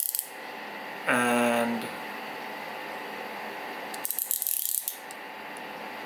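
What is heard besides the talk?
OLFA Classic 5023 utility knife blade ratcheting as it retracts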